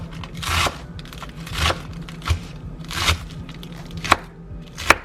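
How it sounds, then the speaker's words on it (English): A knife chops through crisp lettuce in several separate bursts, each a close, crunchy cut, with brief quiet gaps and sharp taps on the board. "So we're just chopping up this lettuce."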